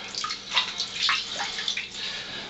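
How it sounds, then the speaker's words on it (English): Lukewarm water runs into a container used for rinsing a tanned hide, a close splashing, bubbling pour with a few gurgles, heard alone. "I just filled this back up with lukewarm water and a little bit of hand soap"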